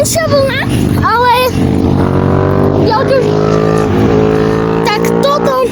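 A powerful car's engine revs in rising and falling bursts as it passes close by at a carspotting roadside, loud and steady, with people talking over it.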